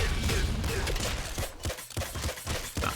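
A hyper grenade launcher fires in a video game, a rapid series of punchy blasts and thuds close by, irregularly spaced over a few seconds amid dense game noise.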